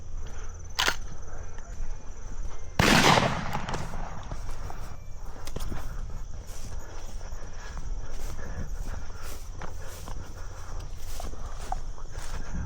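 Shotgun fire during a dove hunt in Arkansas; a sharp distant shot followed about two seconds later by a louder, closer blast, with steady outdoor ambience afterward.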